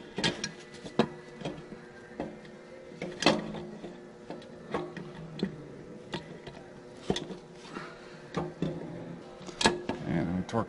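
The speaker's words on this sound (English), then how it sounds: "we're going to torque all our bolts" A torque wrench tightening bolts on a Cummins ISL engine during water pump and accessory installation, giving repeated sharp clicks and ratcheting ticks spread irregularly through the clip, with a person talking at times.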